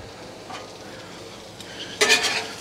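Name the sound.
chorizo sizzling on a Blackstone griddle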